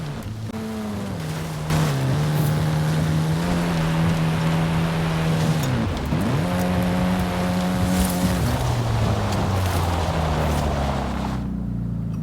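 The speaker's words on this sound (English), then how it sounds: "here's a car that's driving right along the edge of where this arena will be" Engine of a car in the video game Atlantes De Tula, droning loudly with shifting revs and pitch changes for most of the clip before cutting off near the end.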